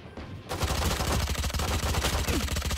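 Rapid automatic gunfire in a video game, loud and continuous after a brief lead-in, a dense stream of shots dominating the sound.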